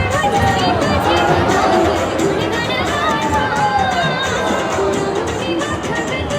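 A large, dense crowd jostles at a temple. Loud, continuous babble and overlapping voices are close by, with chatter throughout.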